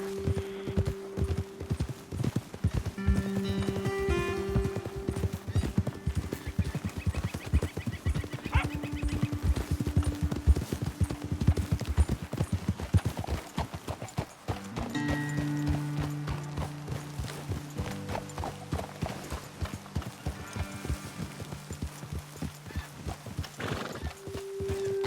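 Horses in Red Dead Redemption 2 walk with a steady clip-clop of hooves, snorting and giving a whinny, close and moderately loud, with creaking tack and some background mechanisms.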